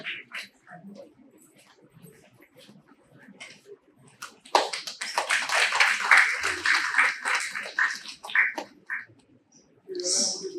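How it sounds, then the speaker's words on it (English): After quiet scattered sounds, a crowd at an International Mangrove Day prize ceremony in a university botany department bursts into clapping for the winners, a loud dense patch lasting about four seconds before thinning out. "A big applause for all the winners and all participants"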